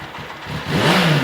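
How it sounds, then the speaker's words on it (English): A Ducati Monster 821's V-twin engine revs upward in one short, loud surge, rising in pitch as it accelerates. "the V-twin engine has a lot of power and torque"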